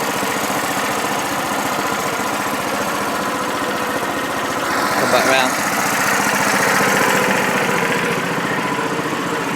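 A small engine idles in gear under very little load, a steady rhythmic chug running throughout, while someone speaks briefly partway through.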